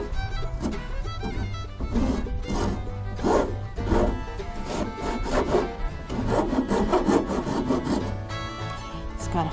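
A saw rasp files wood by hand in repeated rough back-and-forth strokes, close and fairly loud, with an uneven rhythm of scraping passes.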